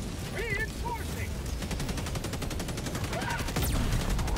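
Rapid machine-gun fire in Helldivers 2, aimed at bringing down a tank, comes as a steady stream of evenly spaced shots at close range, with game voices and other chatter layered over it.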